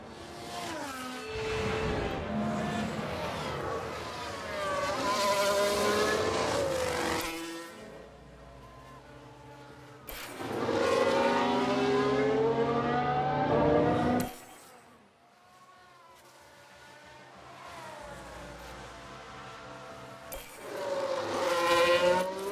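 Formula 1 race cars in the F1 Manager 2022 racing game, engines droning and rising in long loud sweeps with short quieter gaps between passes, no voices.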